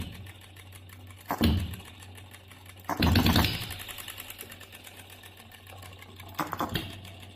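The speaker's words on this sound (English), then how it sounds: "We can see the engine is producing a knocking effect" An OKMO B02 model Stirling engine runs with a fast, steady mechanical clatter, punctuated by a few louder knocking bursts, close and with no talk.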